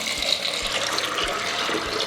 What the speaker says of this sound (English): place that in a large bowl, and now I'm going to cover them with water